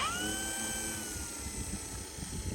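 The electric motor of a tailwheel RC airplane spins up with a high whine that rises in pitch, then hums steadily for a couple of seconds, close and fairly quiet.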